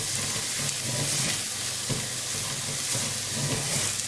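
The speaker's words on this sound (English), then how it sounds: "Now stir this along. It's important at this stage to really cook out the spices so you're not left with a raw taste towards the end of the dish." Ground spices sizzling in hot oil in a pan while being stirred for a Bangladeshi-style fish curry, a steady close frying hiss with occasional scrapes of the utensil and no talk.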